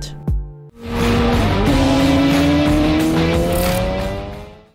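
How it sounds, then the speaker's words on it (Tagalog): A Yamaha MT-10 naked motorcycle with a cross-plane engine derived from the 2015 YZF R1 and an Akrapovic exhaust starts with a sharp blip, then holds a loud, rising rev with a steady climbing whine for several seconds before fading. "the sound check of the Akrapovic exhaust"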